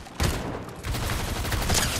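Gunfire in a Fortnite-style battle royale video game: a rapid burst of shots starts abruptly and then continues as a dense, loud fusillade.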